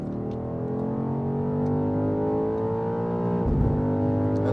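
A 2023 BMW XM pulls hard at full throttle on the Autobahn, its engine note steady and loud with rising harmonics throughout, plus a brief shift-like dip near the end, heard from inside the cabin.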